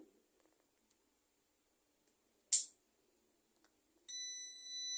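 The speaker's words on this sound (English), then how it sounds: "you heard the beep" A short electronic beep from a VEVOR bread machine sounds in quiet, followed later by a steady high multi-tone hum as it starts kneading dough.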